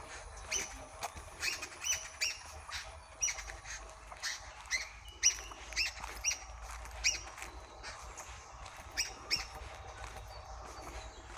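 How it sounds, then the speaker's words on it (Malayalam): Birds call in Thattekad forest near Kothamangalam, a migratory bird haven: faint, repeated high chirps come in short bursts from a distance against quiet woodland background, with no talking. "പക്ഷികളുടെ സൗണ്ടൊക്കെ കേൾക്കാൻ തുടങ്ങിയിട്ടുണ്ട്."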